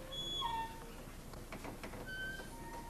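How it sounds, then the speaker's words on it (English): A dog lets out several thin, high whimpers and whines, faint and somewhat distant inside a quiet, empty school building, with no clear barking. "That's a dog."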